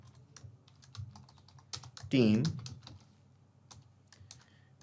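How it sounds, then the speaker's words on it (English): Quick bursts of clicking keystrokes as a message is typed on a computer keyboard, close and crisp, with someone speaking over the tapping. "So here I'm typing hello"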